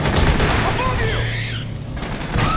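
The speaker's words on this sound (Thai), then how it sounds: "ยิงมัน โอ้นี่ทำไมยังยิงไม่ตายเพื่อน" Rapid gunfire aimed at an alien in the video game Aliens: Colonial Marines, a loud unbroken rattle of shots layered with shrill creature screeches and game effects.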